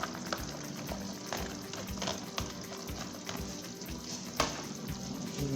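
Vegetables and salted fish stirred in a sizzling pan, with a steady low frying hiss and soft scrapes and knocks of the utensil recurring throughout, moderately quiet.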